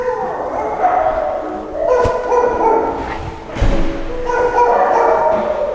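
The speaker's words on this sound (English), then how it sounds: "they'll start barking at us." Many dogs barking and yipping together in temporary kennels at an animal shelter, echoing, a continuous overlapping clamor with sharper barks standing out.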